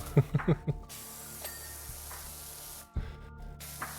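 A pressure washer in PowerWash Simulator 2 sprays grass with a steady broadband hiss that runs for a few seconds, breaks off briefly, then resumes, preceded by a couple of soft thumps.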